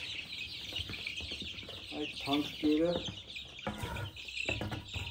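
Chickens on a village farm cluck and peck at feed scraped out for them. Their soft, busy calls sit up close under a person speaking quietly, with faint chirps mixed in.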